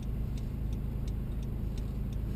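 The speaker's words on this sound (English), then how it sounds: "if we do turn on our turn signal, it'll automatically show us the right side of our vehicle" Turn signal on a 2014 Honda Accord Touring V6 ticks in a steady, even rhythm of about seven clicks over a low cabin engine hum, heard from inside the car.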